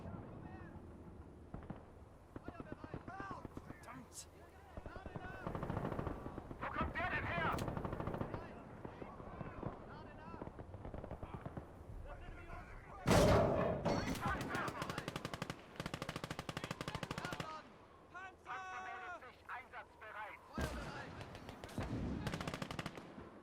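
Tank cannon and machine-gun fire in a WWII western-front real-time strategy game, rapid bursts and heavy booms coming in waves, with a sharp loud blast midway and a voice talking at points.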